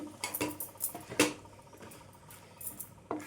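Tomato rice is mixed by hand in a metal vessel, giving soft, irregular clinks, taps and pats close by, with brief pauses between bursts of handling.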